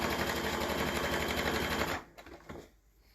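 Sewing machine basting a cushion cover seam with a long stitch, running in a loud rapid rhythmic chatter for about two seconds before stopping, followed by a few light clicks.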